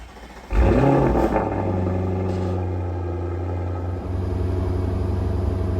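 An Audi RS6 fitted with an IE catback exhaust fires up for the first time, a sharp starter catch and loud bark settling into a deep, steady close idle rumble.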